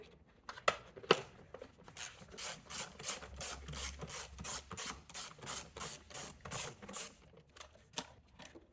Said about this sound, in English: And then we need to undo these two screws again.